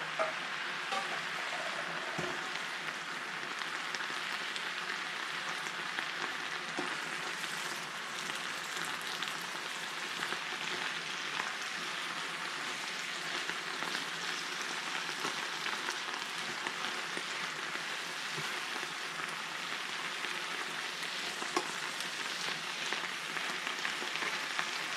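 Kale sizzles and wilts in a hot pan on a home stove, a steady, dense crackle that carries on without a break at moderate loudness, with no talk over it.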